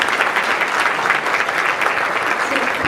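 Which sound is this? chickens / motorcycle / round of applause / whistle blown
round of applause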